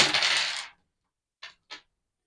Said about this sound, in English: Each player grabs their dice and we roll in one big fell swoop.